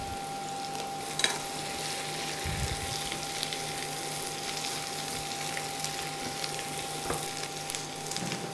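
Garlic sizzling in a pan during home cooking, a steady low hiss of frying running throughout with an occasional faint clink, no talk over it.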